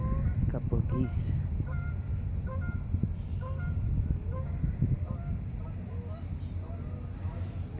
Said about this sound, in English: Here come some geese.